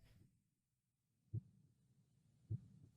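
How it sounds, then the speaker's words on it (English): Heartbeat sound effect in a drama scene, two soft, deep thumps about a second apart against a quiet low background. "Your heartbeat already told me."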